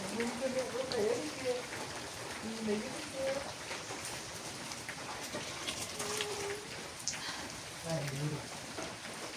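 Steady rain falls while cooking is under way, a continuous soft hiss of drops on surfaces, with faint voices and occasional bird calls in the background.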